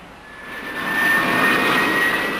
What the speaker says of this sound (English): The jet car looks good and sounds better